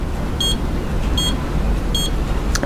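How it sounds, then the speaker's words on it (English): A handheld home mini HIFU ultrasound device gives three evenly spaced short electronic beeps about 0.8 seconds apart, clear and close, followed by a brief click at the end. "It will stay in place until the 4 beeps has finished."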